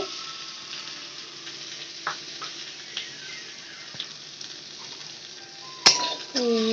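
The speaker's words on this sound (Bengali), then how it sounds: "গোলমরিচের সাথে আলুটা ভালো করে নাড়িয়ে নিতে হবে" Fried boiled potatoes with black pepper in a pan, a soft steady sizzle under occasional light clinks of a spatula against the pan, ending with a louder metallic scrape and clatter.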